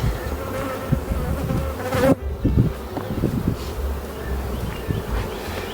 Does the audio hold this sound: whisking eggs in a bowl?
no